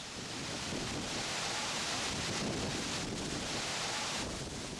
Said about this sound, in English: The quantity and speed of the waterfall is immense.